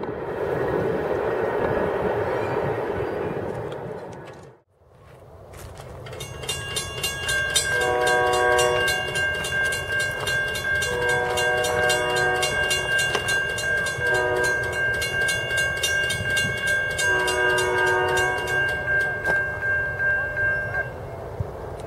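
An SD70ACE diesel locomotive rolls past close by. Its loud horn sounds repeated blasts over a steady rumble and rhythmic wheel clatter that keeps going after the horn stops.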